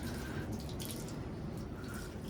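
Water running steadily from a tap at a Maldives resort villa, used to rinse sand off feet before going indoors, a close, continuous splashing stream with no talking.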